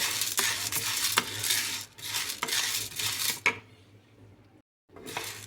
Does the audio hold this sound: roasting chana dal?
yes